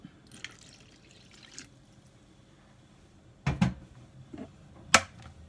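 Oil and lukewarm water poured for challah dough, heard as a few soft drips and splashes with two sharper liquid plops near the end, close and fairly quiet against a still kitchen background.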